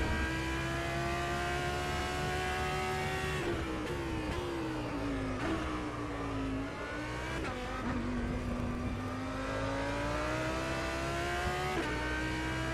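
Audi R8 LMS GT3 race car engine in rFactor 2 at Silverstone, a steady loud drone that rises and falls through gear shifts and revs across the whole stretch, with no voices.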